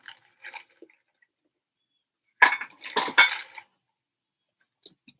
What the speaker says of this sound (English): that's a whole lot of Sheldon just dumping his fucking food everywhere